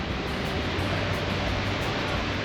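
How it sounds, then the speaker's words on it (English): Skógafoss waterfall in Iceland roars as a steady, dense wash of close, loud broadband noise with no breaks, joined by occasional wind gusts. "The mist and moss is just an incredible sight to see together with the roar of this fall."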